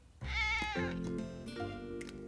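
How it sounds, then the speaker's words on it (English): A cartoon house cat lets out a couple of clear, close meows, one drawn out and rising and falling, with no talking over them. "You like cat games, don't you, Gilbert?"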